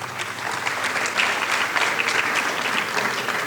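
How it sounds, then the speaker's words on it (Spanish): Audience at an academic conference on El Niño and La Niña applauds steadily after a degree presentation, a dense, even wash of many hands clapping throughout without voices on top. "Un aplauso, por favor."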